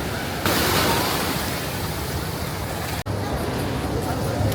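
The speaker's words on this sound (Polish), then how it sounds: "te takie fale przychodzą z nienacka" Loud, dense roar of surf breaking at Copacabana beach in Rio de Janeiro, a continuous wash of water that fills the whole stretch with little variation.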